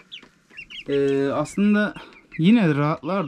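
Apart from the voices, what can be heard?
young chickens clucking in new coop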